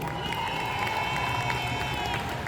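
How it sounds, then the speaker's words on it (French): An audience at a Paris Manga 2023 convention panel applauding and cheering a guest, a steady wash of clapping and crowd noise at moderate distance with a few whistles and shouts, plus faint voices mixed in. "un tonnerre d'applaudissements, s'il vous plaît, pour David Hewlett."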